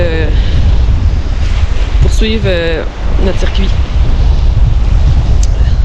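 Strong, cold wind blowing outdoors on a northern circuit, a constant low roar of buffeting across the microphone with someone talking over it throughout.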